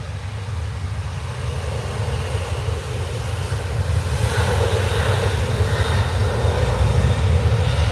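Passenger jet engines roar steadily at Manchester Airport, a broad continuous rumble that swells slightly louder as an EasyJet aircraft taxis or prepares to depart nearby, with no talking.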